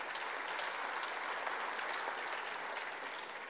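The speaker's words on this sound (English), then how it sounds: "Another round of applause for Governor Hogan," An audience at a National Governors Association winter meeting applauds Governor Hogan, an even, sustained patter of clapping heard at a distance and fairly faint, with no voices over it.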